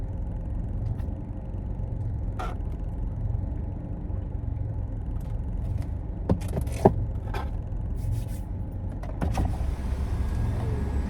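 A car drives along with a low, steady road rumble from inside the cabin, broken by a few short clicks and bumps, with no one speaking.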